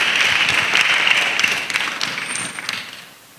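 Children in a pastor's Bible class clap together in a steady, bright patter of applause that thins and fades out toward the end.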